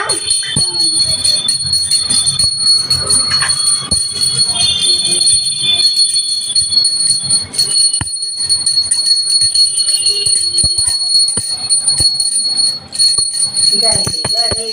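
A hand bell rings during a Hindu Karva Chauth puja, a continuous bright metallic ringing with quick repeated strokes, fairly close and loud, while people talk and move around nearby.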